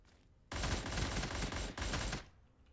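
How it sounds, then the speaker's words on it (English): An AN-94 Abakan rifle fires two rapid bursts in a video game, each a dense rattle of shots lasting about a second, crisp and close against a quiet background. "The burst fire does, as long as you're hitting your shots, it does shred these guys."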